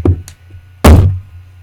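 Thuds and knocks of someone struggling to open a stuck jar of gesso, with a couple of soft taps and then one loud, close bump followed by a short rattling scrape, no talking.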